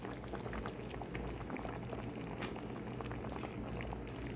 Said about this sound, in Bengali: এখন পেঁপেটা সিদ্ধ হওয়া পর্যন্ত রান্না করে নেব।